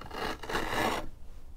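A small violin plane shaves the edge of a piece of wood in one close, raspy cutting stroke lasting about a second, then stops.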